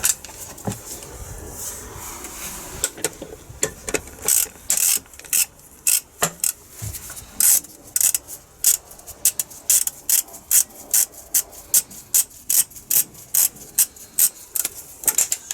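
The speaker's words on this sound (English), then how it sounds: "I'm going to use a ratchet or something on that." A ratchet wrench clicks in quick repeated bursts on a car under its propped-up bonnet, the sharp ratcheting strokes growing more regular and rhythmic, close and loud with no talking.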